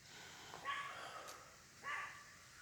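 A dog barks twice at crows outdoors, two short sharp barks about a second apart at moderate distance, with faint background ambience between them.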